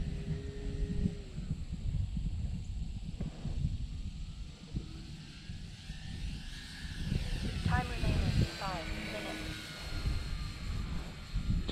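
An Eflite Air Tractor radio-controlled model airplane flies at Eastgate Park in Dothan. Its engine is a faint whine that rises and falls as it passes, heard under wind noise and nearby talking.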